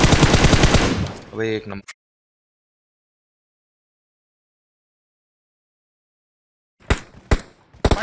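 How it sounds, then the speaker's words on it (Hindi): Gunfire in a battle royale video game: a loud rapid burst of shots at the start, then a short spoken exclamation, a long silence, and a few more sharp shots near the end. "तीन शॉट दिए मैंने पीछे 160 पे।"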